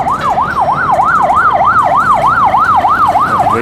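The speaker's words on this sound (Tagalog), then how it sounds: "Maingay ang ambulansya." An ambulance siren wails loud and close on a city street in Caloocan, Philippines, its rapid rising-and-falling yelp repeating steadily throughout over faint traffic noise.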